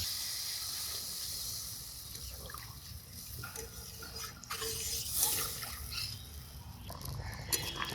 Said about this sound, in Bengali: এখন ঝোলের জল দিই।